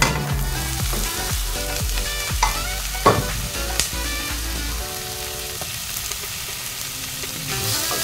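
Cheese dogs fry and get stirred in a pan, with a steady close sizzle broken by repeated scraping and clinking strokes throughout.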